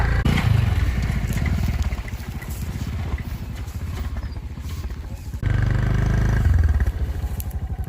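A motorcycle engine runs close and loud with a rough, pulsing putter that rises and falls and swells again near the end, while people talk over it.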